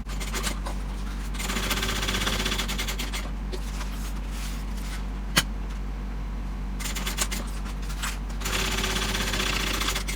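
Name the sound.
sewing machine top stitching a handbag seam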